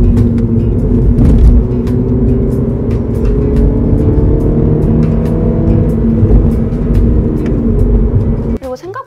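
A Mini Cooper 3-door hatchback driving, a loud, steady engine and road rumble running throughout, close and continuous, with the sound cutting off abruptly near the end.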